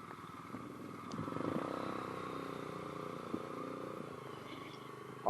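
A motorcycle pulls away from a test centre in Warwick during a UK Module 2 riding test, its engine a fairly faint, steady rumble that swells briefly as it moves off.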